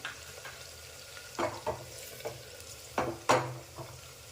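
Sliced onion sautés in oil, with a faint low sizzle under a few short bursts of stirring and spoon scrapes against the pan, no voices.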